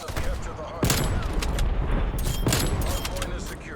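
Rapid gunfire from the Black Ops Cold War video game crackles in loud, dense bursts, with sharp shots landing close together throughout, mixed with other game effects.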